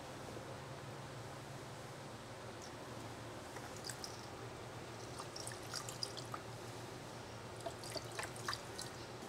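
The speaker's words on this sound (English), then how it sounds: "If anyone knows a trick on how to pour these type of thinners out without making a huge mess" Paint thinner poured from a can during a custom paint job on a 4x4, a soft continuous trickling splash with scattered faint drips, quiet and steady throughout.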